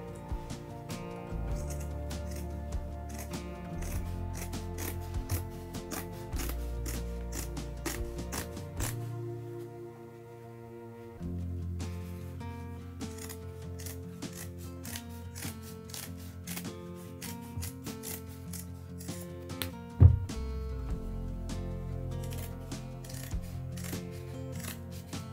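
Scissors cut through material in a quiet indoor space, making repeated crisp snips and rustles over a soft steady background hum, with one sharper click near the end.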